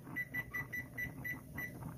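A kitchen timer beeps in a steady string of short, evenly spaced electronic chirps over a low background rumble while a Coletti coffee percolator brews nearby.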